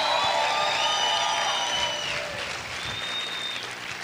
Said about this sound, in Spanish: Vamos a gritar y aplaudir fuerte al Señor.